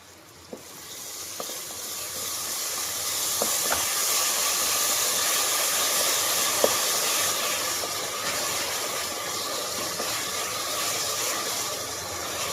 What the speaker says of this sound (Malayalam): പെരുമഴ